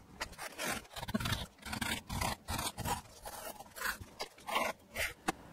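A hand saw cutting dovetail tails in a wooden board: a series of short rasping back-and-forth strokes, close and moderately loud, in an uneven rhythm of bursts with brief gaps between them.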